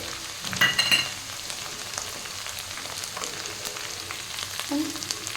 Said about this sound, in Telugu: మినపప్పు శనగపప్పు ఇవన్నీ కూడా పోపుకైతే వేసేసుకోవాలి